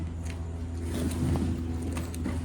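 A small go-kart engine runs steadily at a raised idle, a continuous low mechanical drone with a faint higher rattle, close and fairly loud for the whole stretch.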